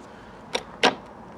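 Gear lever of a Fiat Panda 4x4 Sisley being shifted, two quick mechanical clunks close by, the second louder, in a quiet car interior.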